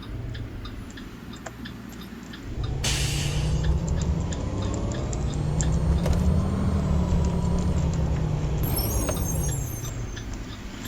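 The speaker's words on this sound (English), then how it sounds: "So let's go ahead and set off in this electric CE." An electric IC CE school bus pulls away in the Rigs of Rods driving game, with a low motor hum that rises and a faint whining, wiring-like tone, plus regular ticking clicks and a brief hiss burst, no voices.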